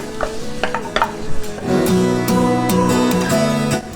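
A spoon scrapes and stirs thick carrot halwa cooking in ghee inside a pressure cooker, with a few clanks at first, then a steady scraping churn with a faint sizzle.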